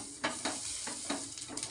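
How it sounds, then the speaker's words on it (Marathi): Halved onion rubbing oil across a hot dosa griddle: a soft sizzling hiss with several quick scraping swipes in a loose rhythm, faint and close. "कांद्याने तेल लावते बघा"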